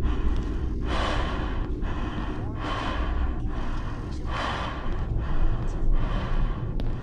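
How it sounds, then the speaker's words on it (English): Heavy panting of the player character as a stamina effect in the VR horror game Doors of Silence: loud, close, rhythmic breaths, about one every second, over a steady low rumble. "I can hear myself breathing, so I think it's like a stamina effect"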